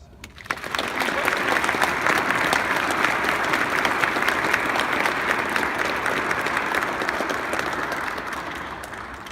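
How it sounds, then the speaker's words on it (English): Wedding guests inside a church break into sustained applause for the newly married couple, a dense, steady wash of clapping that starts abruptly, holds loud, and tapers slightly at the end. "God for this new marriage with a nice round of applause."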